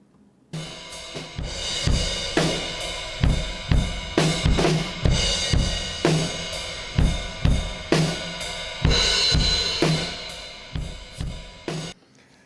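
A full drum kit played in a room, with kick, snare and crashing cymbals ringing out in a roomy, ambient sound; steady rhythm with no voices.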